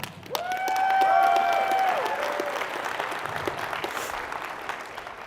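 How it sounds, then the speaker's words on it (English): A keynote audience bursts into applause, a broad wash of clapping that swells quickly and then slowly tapers, with a sustained electronic tone sounding briefly at the start. "if one person claps, we all clap"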